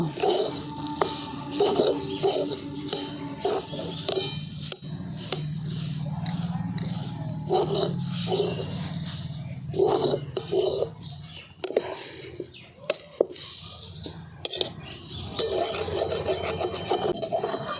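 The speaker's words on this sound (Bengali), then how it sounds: "খুব ভালো করে ডাল আর ডুমুর বাটাটাকে মিশিয়ে নিয়েছি মশলার সঙ্গে" A paste of lentils and figs is stirred with spices in a pan, giving steady rasping, rubbing scrapes of a utensil over a faint sizzle, close up, with some quiet speech mixed in.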